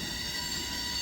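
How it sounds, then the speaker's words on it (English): A train rumbles across a bridge at Santa Fe Junction, a steady, continuous roar of rolling wagons with a faint wheel squeal riding on top, sustained without a break. "David, there's a train coming across the bridge."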